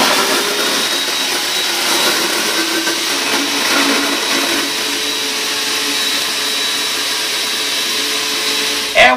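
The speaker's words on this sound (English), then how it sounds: "Just take a pinch of confetti, put it in the machine, push the button, and here's what you got." A Chauvet DJ Funfetti confetti launcher blows confetti with a loud, steady motorized whoosh like a vacuum cleaner, running continuously for several seconds before a brief clunk at the end.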